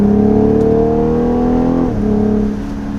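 A BMW six-cylinder engine drones loud and close through its exhaust, holding a steady light-throttle rev before the pitch drops away as it eases off.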